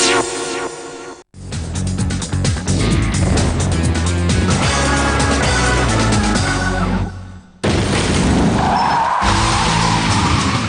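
A car drifts at a stunt show, its engine roaring loudly and tires skidding and squealing continuously, broken by a brief gap before another loud burst of engine and tire noise.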